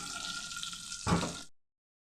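Rajma with potol and pre-fried shing fish simmering in a pan, giving a steady close sizzle and bubbling that swells briefly near the end before cutting off abruptly.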